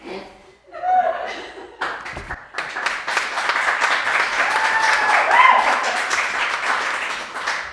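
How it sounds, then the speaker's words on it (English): A podcast studio audience breaks into applause following a comic eulogy, clapping building quickly after a brief pause and holding steady and loud, mixed with laughter and chuckles throughout. "a round of applause after a eulogy"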